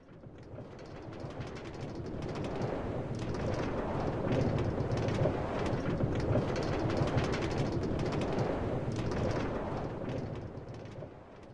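A New York subway L train heading for Rockaway Parkway rides between stations, a steady roaring rumble of wheels and car noise that swells in the middle, heard from inside the car with no voices.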